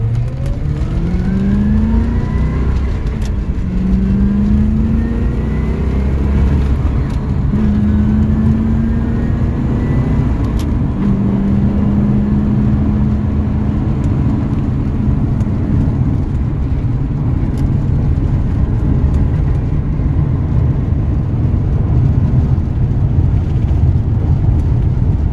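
A manual-transmission car engine climbs repeatedly toward about 4,000 RPM, its rising whine dropping after each gear shift, several pulls in succession heard from inside over steady road rumble.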